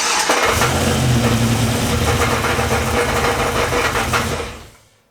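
A big-turbo street truck engine cranks and runs loud and close with a rough rumble for several seconds, then cuts off abruptly into silence.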